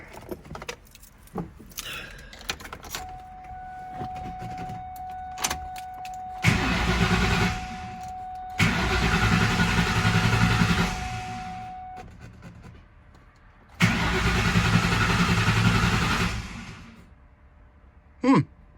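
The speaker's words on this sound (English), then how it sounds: "you're just gonna go in the car, start it up, and let it run until it dies" Keys jangle, then a 1994-2004 Ford Mustang engine cranks and starts, idling steadily in long stretches with pauses, a clicking and a thin whine between runs.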